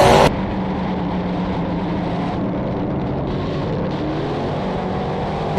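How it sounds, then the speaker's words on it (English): Race cars at Airborne Park Speedway roar past in a drag race down the back straightaway, a loud sustained engine drone with shifting pitch after a brief sharp burst at the start, no talk. "Drag race down the back straightaway. Side by side for the top spot."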